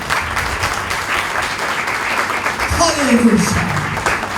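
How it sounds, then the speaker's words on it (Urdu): Loud, sustained applause from a church congregation fills the whole span, with a voice shouting an exclamation over it near the end. "پرزور تالیاں میں جائے۔"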